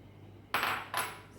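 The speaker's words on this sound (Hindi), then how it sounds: "ये हमारे पास 1 कप सिरका है, वो हम ऐड करेंगे इसमें।" One cup of vinegar splashes into homemade lasoda (gunda) pickle in two quick, close pours, each a short burst of liquid noise over a quiet background.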